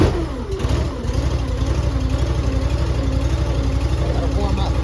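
A heavy equipment engine cranks and catches, then settles into a loud, steady diesel running rumble, close by.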